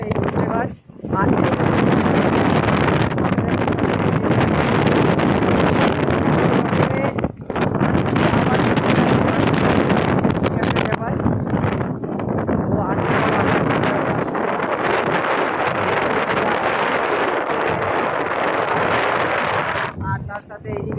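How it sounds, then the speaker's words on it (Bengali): Strong wind roars across the bank of the Matla river at Kaikhali. It buffets the microphone in a loud, continuous rush that dips briefly only a couple of times. "প্রচণ্ড বাতাস, সাঁ সাঁ করে একটা আওয়াজ হচ্ছে"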